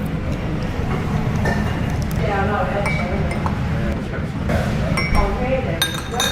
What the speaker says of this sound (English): Always have to do that little clink.